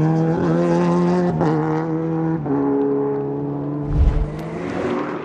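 A European Le Mans Series race car accelerates on a racing track, its engine a steady, loud, tonal drone that rises in pitch through gear changes, with a low thump near the end.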